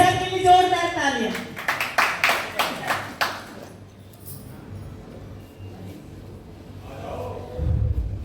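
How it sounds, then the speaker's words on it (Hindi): A short burst of clapping from an audience at a senior citizens' program, a run of quick claps lasting a couple of seconds after talk, then fading into murmurs and renewed voices. "भाई साहब के लिए जोरदार तालियां।"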